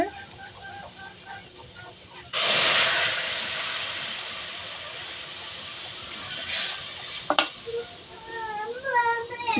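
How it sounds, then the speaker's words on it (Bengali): Lentil dal is poured into hot oil for a sour dal with bilimbi, setting off a sudden loud, hissing sizzle that gradually eases and then flares again, with birds chirping faintly in the background before and after. "দেখো এবার ডালটা তেলে দেব"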